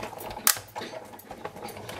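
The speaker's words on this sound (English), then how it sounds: "If you're new to a Big Shot, that cracking is normal." A Big Shot die-cutting machine gives sharp cracking and clicking sounds as it works, a loud snap near the start followed by softer creaks and crunches.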